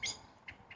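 A blackbird calls close by in an urban setting, with short bright chirping notes over quiet background hiss.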